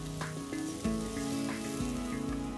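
Finely sliced shiitake mushrooms sizzle steadily in a frying pan after something has browned to golden, a continuous moderately quiet hiss with light clinks and stirring taps and no voices.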